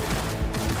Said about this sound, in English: I'll shoot him down!